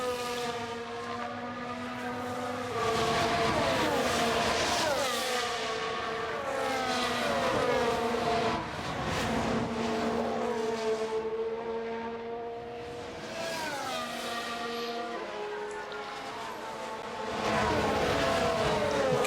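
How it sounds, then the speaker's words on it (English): Formula 1 race car engines in F1 Manager 2022, a high whining roar that rises and falls through gear changes as cars pass, with several engines layered at moderate distance. "here comes Norris, putting his foot down on his in lap, pushing as hard as he can"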